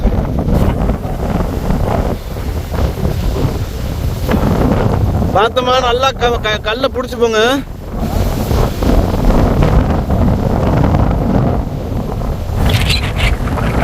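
Strong wind gusting across the Rangamalai hill trek at around 1500 feet, a steady roaring rush that buffets the microphone throughout, with people talking and calling out over it.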